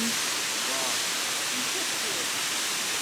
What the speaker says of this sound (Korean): 제 2폭포예요